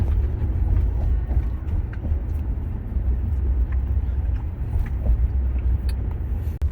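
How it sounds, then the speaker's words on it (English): Heavy road traffic of trucks and coach buses streams past nearby as a continuous low engine rumble and tire roar, steady throughout with faint voices in the background. "Because I never see this kind of traffic."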